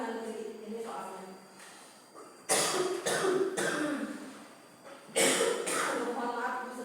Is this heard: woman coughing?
yes